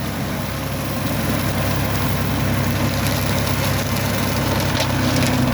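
Solis 50 cab tractor mulching grass with its mulcher at 1000 rpm, a continuous low engine drone with whirring and rattling running steadily throughout, with no talk.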